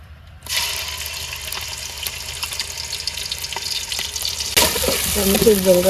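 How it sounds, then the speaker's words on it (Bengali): Shrimp drop into hot oil in a wok and burst into loud, steady sizzling frying that keeps on crackling, with a sharper surge of bubbling near the end. "এই কড়াইটাও চিংড়ি মাছ দিয়ে দেই"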